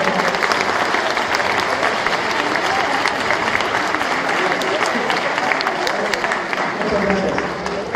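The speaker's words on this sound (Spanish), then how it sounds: "Ahora sí, démosle un gran aplauso." Audience applause for a forensic science speaker being introduced, dense and sustained clapping from a large crowd filling the whole stretch at a steady level before easing slightly at the end.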